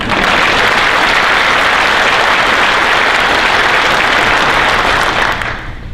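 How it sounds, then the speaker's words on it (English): A police cadet awards ceremony audience gives a round of applause, loud, dense clapping sustained evenly before tapering off at the very end. "You guys give a round of applause."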